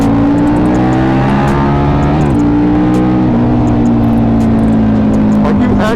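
A KTM RC8 1190 R sport motorcycle engine roaring loud and close under manual gear changes, the steady drone dipping briefly at shifts before climbing again.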